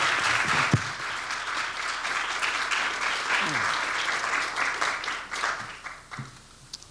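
An audience applauds to welcome a distinguished panel at a university politics institute event, dense steady clapping throughout with a few voices underneath, tapering off at the end.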